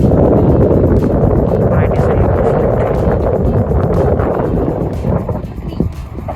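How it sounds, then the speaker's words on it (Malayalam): Strong wind roars across the microphone in a loud, constant low rumble that eases slightly toward the end, outdoors at Dubai Design District. "നല്ല കാറ്റുണ്ട് ഇവിടെ."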